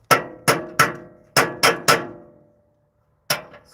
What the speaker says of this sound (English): Substitute hammer.